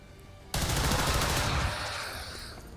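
A gunshot in XCOM 2, a sudden loud blast starting half a second in that rings out with a burst-like rattle and slowly fades, alone without talk.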